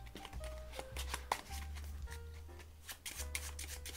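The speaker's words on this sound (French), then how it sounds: "Vous lui demandez de mélanger et il mélange le reste des cartes ici." Playing cards being shuffled during a card magic trick, with repeated riffling bursts and soft flutters across the clip, fairly quiet and close, with faint tonal background sounds underneath.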